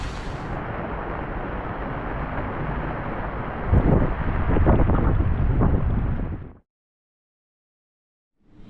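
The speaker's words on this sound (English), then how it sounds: "It is blowing a hoolie today" Strong wind of around 30 knots roars and buffets the microphone on a boat, rising into heavier gusts midway, then cuts off abruptly to silence.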